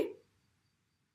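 Bay leaf, cinnamon and cardamom drop into a pan in one soft, close plop that fades quickly into near silence, with no talk.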